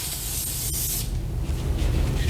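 Adhesive glue sprayed onto skin before kinesiology taping for a calf strain: a steady, close hiss for about a second, then fading into a low background rumble, with no talking.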